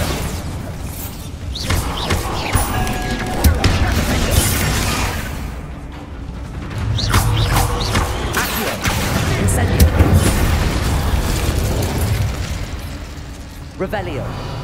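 Booming blasting-spell explosions from Hogwarts Legacy rumble through a dense, continuous mix of game effects, loud and sustained with swells of crashing noise.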